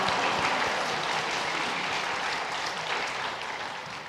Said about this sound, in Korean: 다 같이 큰 박수로 환영하겠습니다.